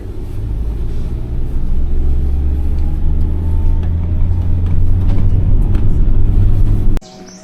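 Minibus pulling away on the road to Sümela Monastery in Maçka, Trabzon: a loud, close, steady engine rumble that builds slightly and then cuts off abruptly near the end.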